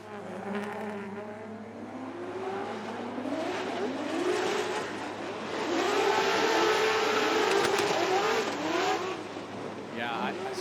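A Formula Drift car engine screaming at full throttle, pitch wavering and climbing with each shift, loud and sustained, with a voice faintly audible beneath it.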